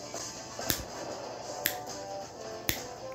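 Three crisp finger snaps ring out, roughly a second apart, close by against a quiet background.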